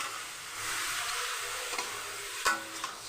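Chicken with masala fries in a pan, giving a steady close sizzle with a few sharp scrapes of stirring near the end.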